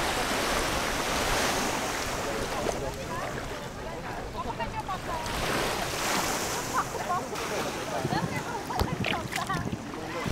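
Ocean waves wash steadily onto a man-made beach in Curacao, a broad continuous surf roar mixed with wind buffeting the microphone, with voices talking faintly in the background.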